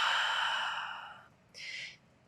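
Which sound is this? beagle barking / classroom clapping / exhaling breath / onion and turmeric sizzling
exhaling breath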